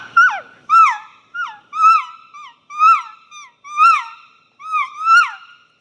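Elk calf calls imitated by a hunter with a caller, a series of about eight short, high, squealing mews with falling pitch, evenly spaced and close, with no talking.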